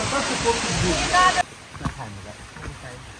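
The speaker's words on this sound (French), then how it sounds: "on a une petite cascade là" A small waterfall next to a footbridge makes a loud, close rushing roar for over a second, then cuts off abruptly to a much quieter background while someone speaks.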